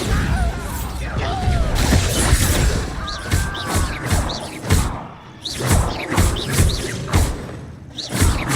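Repeated Bombarda explosion spells from Hogwarts Legacy, a chaotic run of crashing blasts, whooshes and shattering impacts spread across several seconds of busy combat with game voices mixed in.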